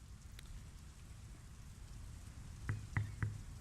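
Rain falling in the video game Draugen, a faint steady patter of drops with a few louder splashes near the end.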